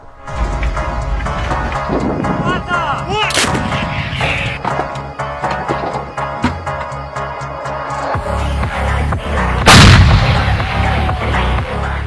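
Heavy artillery from a howitzer booms out in repeated loud blasts, each followed by rolling echoes, with a particularly powerful shot near the end.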